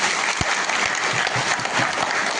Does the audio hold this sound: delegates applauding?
yes